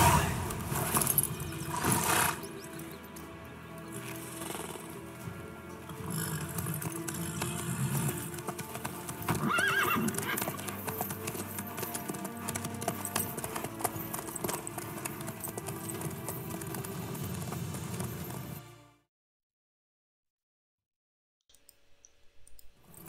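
Rhythmic clip-clop of a galloping horse's hooves in the video game The Witcher 3: Wild Hunt runs steadily over a dense game soundscape, then cuts to near silence near the end.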